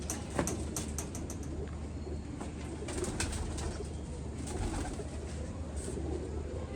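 Pigeons coo softly in low, repeated calls. The cooing sits among faint clicks and rustles at fairly low volume.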